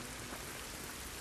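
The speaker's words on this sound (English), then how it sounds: "It's raining" Steady rain in the video game The Last of Us Part II, a dense, even hiss of falling drops filling the scene without pause.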